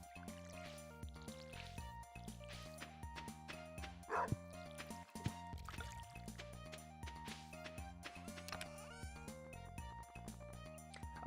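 Dog barking in the Stardew Valley video game, a few short yips and barks over busy background game music, fairly close, with no talking.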